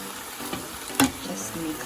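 Pinakbet vegetables with okra, soy sauce and ground pepper are stirred in a pan, a few soft scrapes and clinks over a low background sizzle, one sharper utensil knock in the middle.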